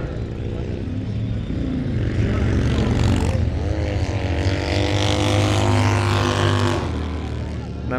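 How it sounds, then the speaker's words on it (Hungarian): Motorcycles race past at a vintage race, their engines a loud, continuous roar that rises and falls as they pass close by, with steady mechanical drone throughout. "éppen most a motorok mennek"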